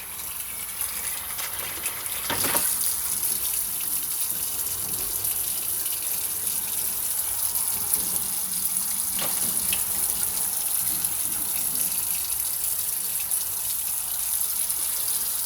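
Cold tap water gushes steadily over freshly boiled eggs in a kitchen sink, a loud continuous splashing rush with a couple of brief knocks along the way.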